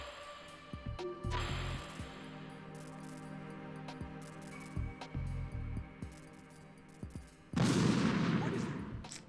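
Gunfire in the Metal Gear Solid 2 video game, with scattered sharp shots and short bursts over a steady game hum, ending in a louder sustained blast of fire.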